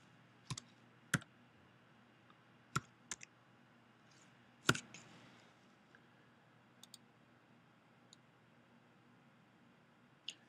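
Scattered clicks from a computer keyboard sound as a code is typed in, a few sharp taps at uneven intervals, quiet and close, over faint room hiss.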